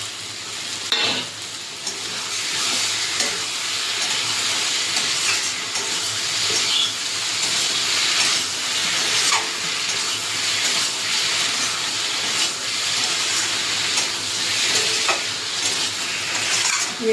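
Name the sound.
fried prawns added to eggplant curry, frying and stirring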